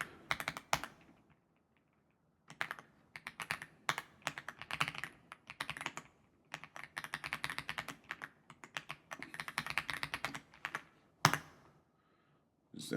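Computer keyboard keys tap in quick bursts as an email and password are typed, with short pauses between runs of clicking, close and clear with no talking.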